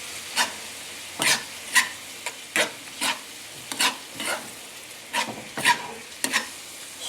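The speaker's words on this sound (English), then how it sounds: "Stir around well." Kheema stirred in a frying pan, with a spoon scraping in a steady series of distinct strokes over a low sizzle, close and clear, with no voices.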